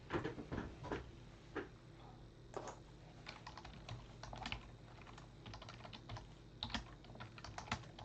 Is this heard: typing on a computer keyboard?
yes